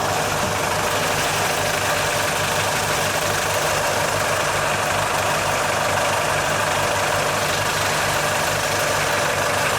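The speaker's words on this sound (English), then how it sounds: "You can see I've got these engines running." Steady, droning idle of powerboat engines with a low rhythmic thrum and mechanical rattle from a vibrating belt, loud and close, continuing without change throughout.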